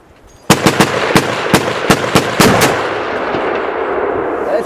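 Rifles fire at Tannerite targets in a free-for-all shoot-out: a rapid series of sharp, loud cracks builds into a heavier blast, then a rumbling tail slowly fades.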